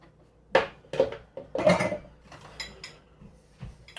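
A small bowl and a plate clink and clatter as they are handled, a few sharp ceramic knocks close by in a quiet kitchen.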